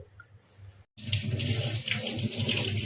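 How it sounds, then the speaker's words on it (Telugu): Water is poured off soaked rice being made into chicken biryani, a brief pause and then a close, steady gush of splashing water running out. "ఇలా నీళ్ళైతే మొత్తం వంపుకొని మసాలా నీళ్ళల్లో వేసుకోండి"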